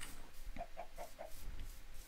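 Minecraft chicken clucking in a game, four short evenly spaced clucks in the middle of the clip over a low steady background, moderately loud and without speech.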